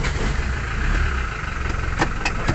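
Mitsubishi L300 engine running after a slave cylinder replacement, a loud, close, steady rumble with a few brief higher clicks near the end.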